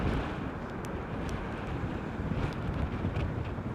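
Storm Ciarán wind roars at Heathrow Airport, a constant heavy rumble buffeting the microphone with gusty surges throughout.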